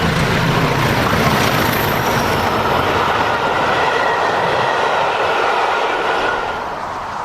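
Two British diesel locomotives haul a GB Rail Freight charter train past Abergele, producing a loud, continuous engine roar and wheel rumble that stays near and steady before easing slightly at the end.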